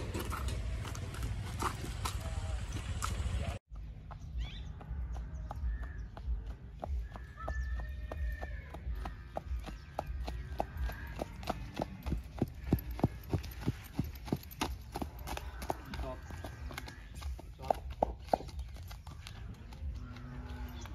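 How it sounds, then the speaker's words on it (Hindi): A horse trots during a riding lesson, its hooves clip-clopping in a steady, quick rhythm that builds after a brief cut and carries on through the clip, fairly close and clear with no talking. "हम आपको ट्रॉट चला के दिखाएंगे।"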